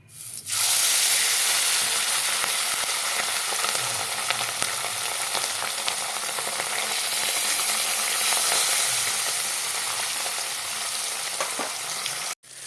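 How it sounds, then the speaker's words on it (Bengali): Fish sizzles loudly in hot oil in a wok, a dense continuous crackle and hiss that holds steady for the whole stretch before cutting off abruptly, with no talking. "দেখো তেল গরম হয়ে গেল এখন মাছগুলো দিয়ে দেব"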